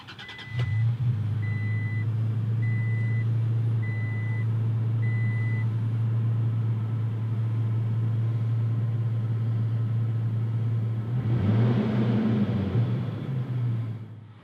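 A 2018 Toyota Tacoma TRD Pro with a manual transmission starts and settles into a steady, deep idle rumble, with a short series of chimes early on and a brief rise in the engine note near the end.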